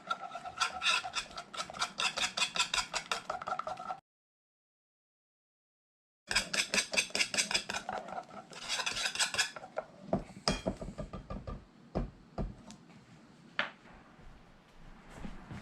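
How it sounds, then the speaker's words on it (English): Apple fritter batter is whisked in a bowl in rapid scraping bursts of metal against the dish, stopping for a couple of seconds of silence, then resuming more loosely with scattered taps and clinks. "And whisk that in."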